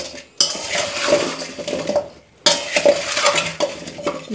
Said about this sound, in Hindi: फिर इसको अच्छी तरह से इसे मिलाते हैं।